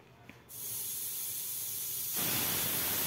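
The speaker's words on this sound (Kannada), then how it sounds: "ವಿಸಿಲ್ ಬಂತು ನೋಡಿ, ಈ ಥರ ಬೆಂದಿದೆ." A pressure cooker holding toor dal suddenly vents steam with a loud, continuous hiss that starts abruptly and grows even stronger partway through, with no voices.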